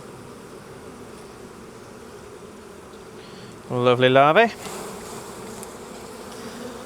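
Honeybees hum in a low, steady drone around an opened hive during a hive split, close and constant. A voice speaks briefly partway through, followed by a short whistling tone.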